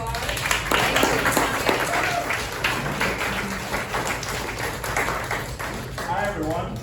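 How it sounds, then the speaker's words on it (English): An audience at a Republican women's club meeting claps for an author, a sustained, moderately loud round of applause with faint voices mixed in beneath it. "let's give him a big round of applause"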